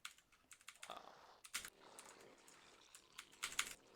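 Computer keyboard keys pressed in quick clusters while setting up control groups in a strategy game, crisp close clicks in irregular bursts with short pauses between them.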